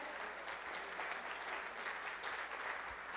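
Faint, steady applause from a church congregation during a Sunday worship service, a continuous even patter of many hands clapping at a distance.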